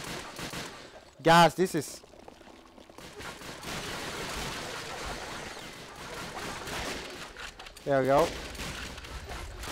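Gunfire in Call of Duty: Finest Hours, a war shooter set on the Western Front against German soldiers, rattles as a steady muffled spray of shots throughout, with someone talking briefly at two points.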